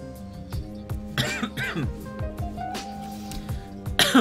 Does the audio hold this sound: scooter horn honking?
no